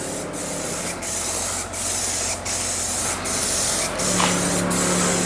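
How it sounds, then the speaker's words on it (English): Short bursts of black spray paint dust small Jaguar XKR parts in a barn, a loud, close hiss repeating in even passes roughly every three-quarters of a second with brief gaps between them. "So let's get some dusting of black paint."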